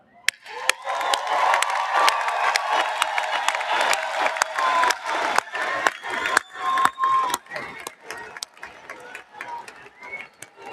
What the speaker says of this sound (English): I'd like you to lead us in cheering them and warmly welcoming them.